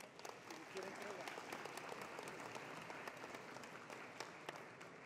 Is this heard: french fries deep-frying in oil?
no